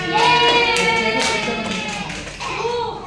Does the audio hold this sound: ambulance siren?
no